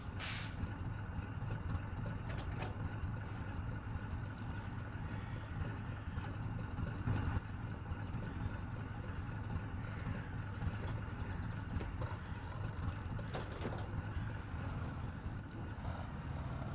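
A large truck engine in the off-road driving game SnowRunner drones steadily throughout, a loud low rumble with a few brief hiss-like transients.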